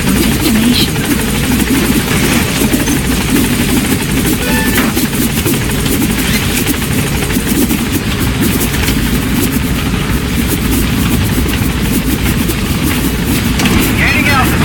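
A helicopter in Metal Gear Solid V: The Phantom Pain drones steadily with loud rotor chop throughout, while radio-style voices speak over the engine noise.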